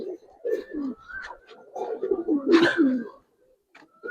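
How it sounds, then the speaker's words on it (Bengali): A Giribaz pigeon coos in a loft in Narayanganj, several soft, close throaty coos in short bursts, with brief pauses between them. "খুব ছটফটা কবুতর আর কি"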